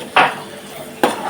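A spoon stirs ragda with turmeric and salt in a cooking pot, giving two short scraping clatters separated by a quiet pause, fairly close and with no talking.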